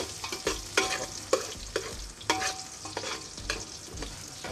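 Garlic frying in a pan and being stirred, with steady sizzling and repeated sharp scrapes of the spoon against the pan at an even rhythm, close and fairly loud.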